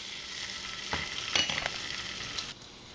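Bacon sizzles and crackles steadily in a hot pan, with a few brief scraping knocks from a utensil.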